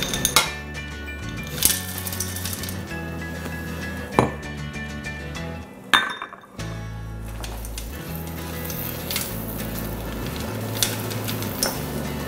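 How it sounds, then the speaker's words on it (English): Chocolate chips and peanut butter are stirred in a pot at a camp cookout, giving light scraping and occasional clinks of a utensil against metal, fairly quiet and steady with a few sharper knocks. "You want to stir and make sure it gets all combined and melded together"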